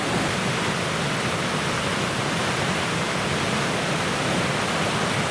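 Roaring River rushes in a continuous, loud, broadband roar of whitewater, steady and unbroken with no voices, heard from close by along a forest trail.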